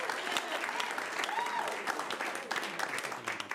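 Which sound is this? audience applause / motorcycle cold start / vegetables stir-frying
audience applause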